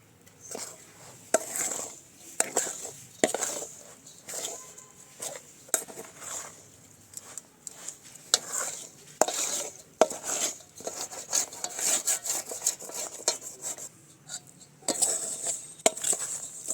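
A spoon stirs yellow colour powder into a sweet mixture for a homemade Diwali sweet, giving repeated close scraping and clinking strokes against the bowl in an irregular rhythm.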